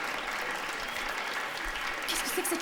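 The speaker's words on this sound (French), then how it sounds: "Je voudrais que vous applaudissiez" An audience claps in a steady, dense wave of applause, with a voice speaking over it.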